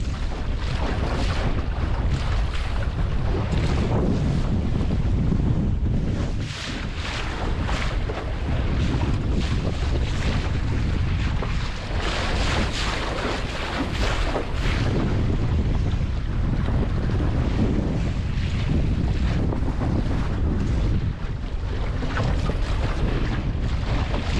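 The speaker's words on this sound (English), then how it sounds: "Some nice wind now, really nice wind." Strong, constant wind roars across the microphone while sailing, mixed with rushing water and splashing along the hull, loud and unbroken throughout.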